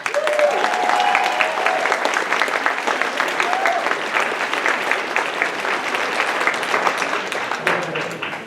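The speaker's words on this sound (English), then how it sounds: "So please give a round of applause and welcome to the stage, Putumayo." Sustained applause from a crowd at the Anime Central 2017 closing ceremonies, steady and full throughout, with a few faint voices and tones mixed in.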